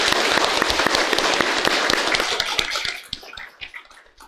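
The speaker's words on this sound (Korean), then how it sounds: "환송 박수하겠습니다" A church congregation at a Sunday service gives a farewell round of applause, a loud, dense, steady roar of many hands that thins out and fades over the last second or so.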